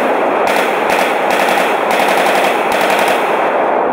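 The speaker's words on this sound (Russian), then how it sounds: "с этими последними выстрелами и окончился силовой этап антитеррористической операции" Rapid bursts of automatic gunfire from a counter-terrorist operation rattle loudly and almost without pause, with sharp single shots punching through the dense firing and no voices.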